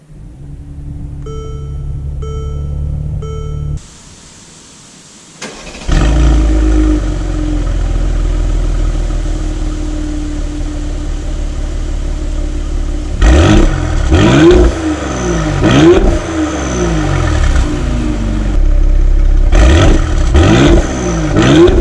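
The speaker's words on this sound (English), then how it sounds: "let's take the new GLE 43 AMG out to see how it drives" A 2019 Mercedes-AMG GLE 43 SUV engine rumbles steadily while driving, then climbs through several rising revs as it accelerates, with no one speaking.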